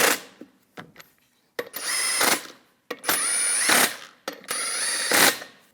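A power tool snugs down the wheel lug nuts on a 2015-2022 Chevrolet Colorado front wheel in several short, close whirring bursts with brief gaps between them, the later bursts longer and louder.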